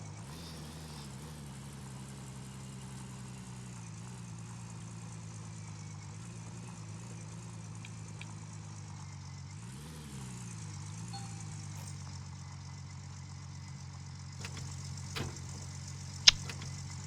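A vehicle engine idles steadily at a gas station in Gold Mining Simulator, a low, even hum that holds for the whole stretch, with a slight swell midway and a few faint clicks near the end.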